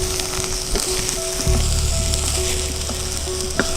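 Okra and onion frying in a pan on medium flame while being stirred, a steady close sizzle with scraping stir noises and a thicker burst of crackle partway through.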